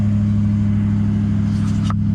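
A Toyota Landcruiser 200 series engine idles steadily at about 1500 rpm, a loud, even low hum close by.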